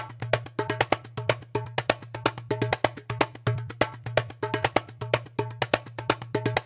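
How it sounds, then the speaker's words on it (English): A groovy djembe percussion loop, quick repeating hand strikes in a steady syncopated rhythm over a low sustained hum, fairly quiet and alone. "a really nice groovy djembe percussion loop"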